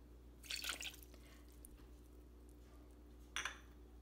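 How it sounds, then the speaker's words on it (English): Water is added to sugar in a kitchen pot for caramel, heard as two brief, faint splashing pours separated by a quiet pause. "and add our water."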